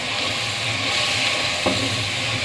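Powdered spices with salt, red chili and turmeric fry in hot oil in a pan for a potato and eggplant sabzi, giving a steady, close hiss with a faint stir scrape near the end.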